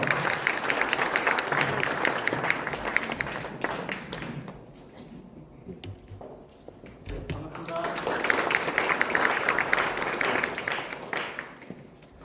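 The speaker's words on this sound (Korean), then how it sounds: "힘찬 박수 부탁드리겠습니다." Audience applause at a regional development seminar hosted by the Gumi Chamber of Commerce in Korea: a loud, dense burst of clapping from a hall full of attendees fades, a brief pause of talk follows, then a second strong round swells and dies away.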